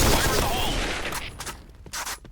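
Gunfire from an assault rifle in the online shooter game Point Blank opens with a loud, dense burst of shots, followed by a few scattered later reports.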